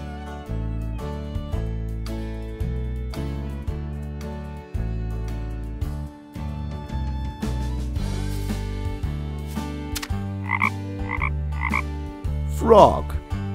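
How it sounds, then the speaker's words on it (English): A frog croaks a few times in short bursts over steady background music, the calls clear but partly mixed with the melody. "Frog."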